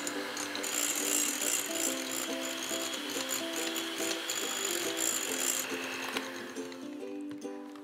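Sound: whipping chilled coconut cream

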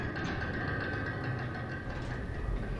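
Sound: gate rising in video game Dark Souls 2

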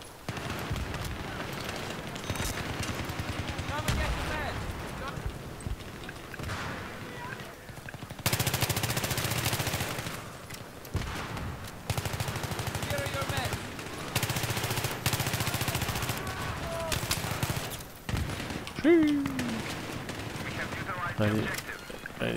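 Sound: M5K gunfire in video game Battlefield 3

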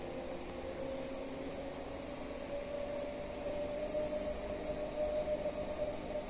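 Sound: PMSM motor running up to maximum rated speed

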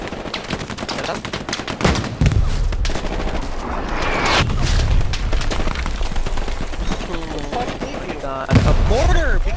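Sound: mortar fire in the video game Hell Let Loose

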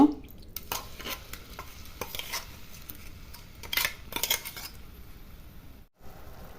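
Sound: spice paste frying and stirred in kadai

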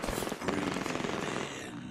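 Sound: gunfire from a video game

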